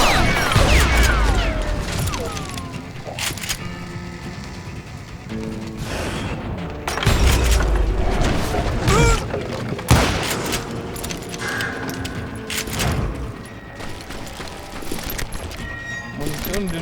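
Gunfire and dynamite blasts in the Western shooter Call of Juarez: Gunslinger, near a cemetery, with dense volleys of shots and booming explosions repeating throughout alongside game music, and someone talking over the action.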